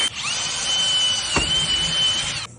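Power tool driving rivets to secure extrusion on an ACM panel, a loud, steady high whine held for about two seconds with a brief dip in the middle, then cut off.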